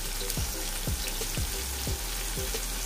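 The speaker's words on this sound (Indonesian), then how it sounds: "tumis sehingga naik aromanya" Spices sauté in a hot pan for beef kurma, a steady loud sizzle and crackle with a soft, rhythmic scraping stir repeating about every half second, with no talk.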